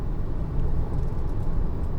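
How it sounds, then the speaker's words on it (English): A Toyota Camry with a 2-liter engine drives past, giving a steady, fairly loud low rumble of engine and road noise with no sharp peak. "that's a Camry 2-liter"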